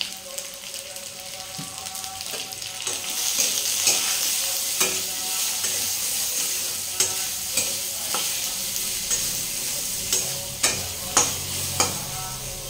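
Small fish fry in hot oil while being stirred with salt and turmeric, a steady sizzle broken by sharp scraping stir strokes that grow more frequent toward the end.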